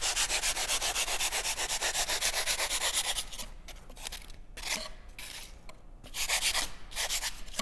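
Abrasive sanding and rasping rubs steadily against a climbing hold as it is tapered and shaped, loud and continuous for a few seconds, then broken into shorter rhythmic strokes with brief pauses.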